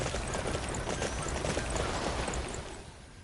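In the video game Dynasty Warriors 9, a ridden horse's hooves clop in a fast, even galloping rhythm, fairly close and continuous before easing off at the end.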